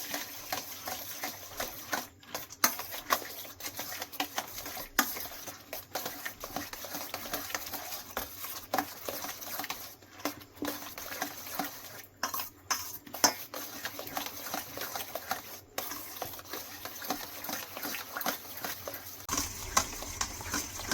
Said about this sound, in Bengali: এবার সুন্দর করে ডিমটাকে মিশিয়ে নেব সবকিছু একসঙ্গে।